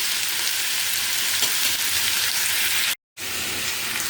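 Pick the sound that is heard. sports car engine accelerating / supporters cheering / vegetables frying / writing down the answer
vegetables frying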